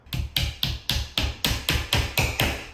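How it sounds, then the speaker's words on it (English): Ten evenly spaced hammer blows drive nails into the perimeter of an IKEA cabinet backboard, each strike a sharp, close, ringing knock. "So you're gonna line up your nail just on the inside of the guideline and gently nail it in"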